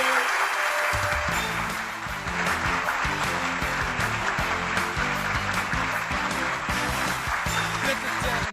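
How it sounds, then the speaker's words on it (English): Recorded applause plays from a host's sound machine during a live stream, a loud steady roar of clapping with a faint musical bed, continuing throughout while a voice speaks briefly. "the applause is still playing"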